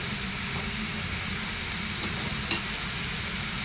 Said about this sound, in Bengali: ভালো করে এবার কষাবো।